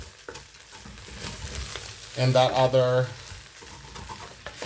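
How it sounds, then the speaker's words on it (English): Rice grains sizzle and scrape in a hot wok-style frying pan as they are toasted and stirred for risotto, a steady frying hiss with a person briefly speaking over it. "we're just gonna start toasting this rice nice and slow"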